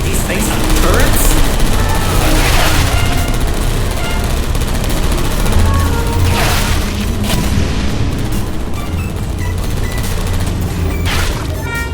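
Turrets fire in a Portal Stories: Mel game scene, a loud, dense burst of repeated gunfire and booms running continuously amid heavy game noise.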